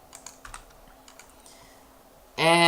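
Computer keyboard typing, a run of light scattered key clicks at moderate distance, irregular in rhythm, ending in a sudden loud broadband burst.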